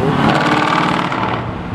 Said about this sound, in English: No way, revving a DBX.